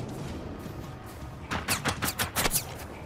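Gunfire in the Generation Zero shooter game, with a quiet lead-in followed by a rapid string of sharp, loud shots fired in quick bursts for about a second and a half.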